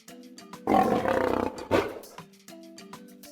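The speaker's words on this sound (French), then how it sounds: "Le lion hurle de douleur." A cartoon lion roars in pain, two loud, ragged bursts rising over light background music, the first longer and the second shorter.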